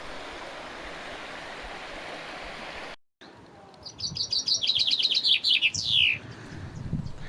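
Chaffinch singing in Cornwall in May, a bright descending trill phrase delivered close and clear over steady background rush of surf or stream, following a brief gap of near silence.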